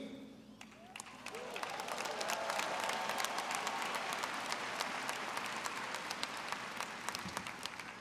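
A large crowd at the Georgia Tech Fall 2023 commencement ceremony breaks into applause and cheering, the clapping swelling within the first second or two into a dense, sustained roar of many hands that carries on steadily.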